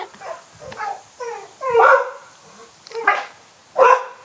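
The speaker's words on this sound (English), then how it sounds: "I'm just going to correct for the barking that she's displaying" A dog, a female being corrected with an e-collar in a multi-dog household, barks in a run of sharp, fairly close barks with short whimpering yips between them, and no one speaks.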